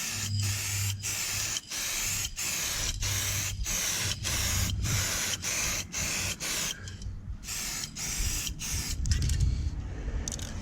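Clear coat is sprayed onto a DIY car body repair in a rapid series of short hissing bursts, close and steady, with brief pauses between passes.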